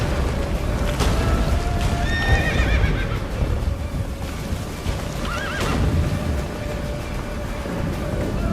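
Horse hooves gallop in The Witcher 3 on PS4, a steady clip-clop rhythm running through the whole stretch, with a couple of loud whinnies and neighs over a dense battle-and-wind bed.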